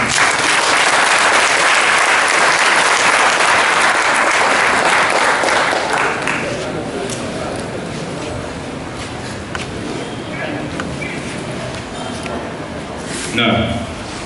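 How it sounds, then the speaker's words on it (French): A large audience applauds at a Cameroonian religious debate: dense, loud clapping for about six seconds, then it fades to a softer, scattered crowd murmur with a brief swell near the end. "Nous appelons donc le cheikh Ali Sanga sous vos acclamations, s'il vous plaît."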